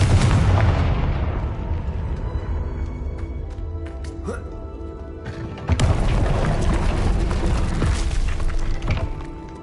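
A Confringo blasting spell goes off in Hogwarts Legacy, giving loud, heavy explosive booms with shattering crackle and a long rumbling decay, then a second blast about halfway through.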